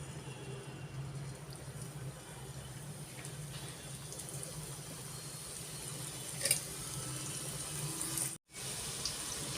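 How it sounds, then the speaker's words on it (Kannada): Modaka dumplings dropped one by one into a pot of heated water, a faint steady watery rush and bubbling with a small splash or clink, close and quiet, with no talking. "ಇದಕ್ಕೆ ನಾವು ಒಂದೊಂದೇ ಮೋದಕವನ್ನು ಹಾಕ್ಕೊಳ್ತಾ ಹೋಗೋಣ ಇದರಲ್ಲಿ"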